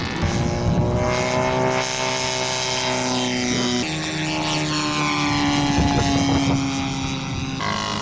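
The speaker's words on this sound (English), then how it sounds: "Down and dirty flyby by Larry Sutherland." A scale model propeller airplane makes a low flyby at a show in Fresno, California, its engine droning loud and steady with a shifting pitch as it passes close, then fades slightly away.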